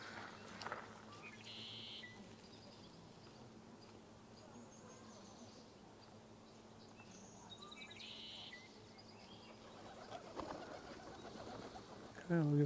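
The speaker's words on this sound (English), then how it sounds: "I guess there's more than one rock pigeon" Several rock pigeons coo softly at a marsh in the early morning, their low calls faint against a busy background hum of insects and distant ambient noise.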